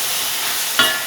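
Sliced onions and green chilies sizzle steadily in hot ghee for a Kerala beef biriyani, close up and loud, with one brief scrape of a spoon stirring the pan partway through.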